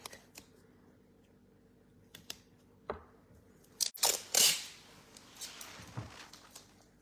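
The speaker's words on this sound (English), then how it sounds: "to ensure that nothing moves, I am going to secure it with some masking tape" Masking tape is pulled and pressed down to hold a stencil in place for paint work: faint taps and rustles, then a loud ripping tear of tape and softer crinkling afterward.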